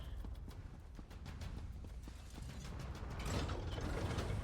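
Dwemer machinery from The Elder Scrolls Online runs steadily, a dense mechanical clatter of clicking gears and ratcheting parts with a constant low hum that swells slightly louder near the end; no voices.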